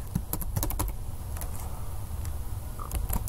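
Quick bursts of computer keyboard typing as a web address is entered, close and clicky at the start and end with a quieter stretch between over a low background hum.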